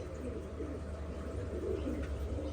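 Soft, continuous pigeon cooing, low and murmuring, with several birds overlapping at a steady level throughout.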